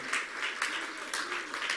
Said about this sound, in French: je vais vous inviter à lui donner des acclamations et vous aussi dans vos maisons, acclamez le Seigneur.